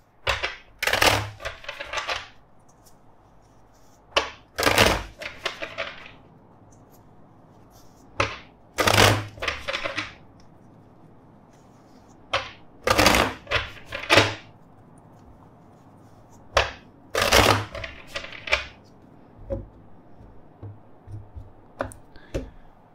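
Tarot cards being shuffled in several separate bursts of quick riffling clicks, each a few seconds long with quiet pauses between, close and clear.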